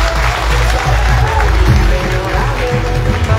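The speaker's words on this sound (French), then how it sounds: "Applaudissements encore pour Mme Louis-Jean." Audience at an awards ceremony for distinguished employees applauds an honoree, a steady wash of clapping that stays loud throughout, with voices mixed into the crowd.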